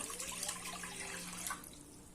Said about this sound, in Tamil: இப்போ நான் இதில் 1/2 லிட்டர் அளவுக்கு தண்ணி ஊற்றுறேன்.